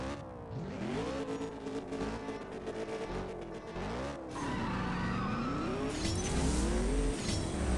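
A car engine in the CSR2 racing game revs and climbs through gears with rising and falling pitch, tires squealing over a loud, busy racing mix.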